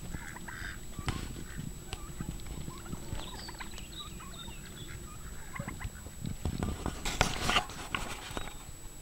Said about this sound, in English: So there's 3 turkeys, 2 girls and 1 boy.